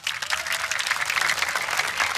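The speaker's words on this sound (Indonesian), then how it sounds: "Kita berikan tepuk tangan semuanya." Dense audience applause at a large sholawat gathering, a steady wash of many hands clapping together without a break, loud and close throughout.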